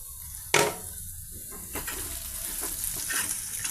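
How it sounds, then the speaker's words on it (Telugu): Cluster beans fry with cocoa and red chilli powder in a pan, a steady close sizzle broken by a sharp clink of a utensil and repeated stirring scrapes. "ఇప్పుడు ఈ విధంగా అన్నీ ఫ్రై అవుతున్నాయండి"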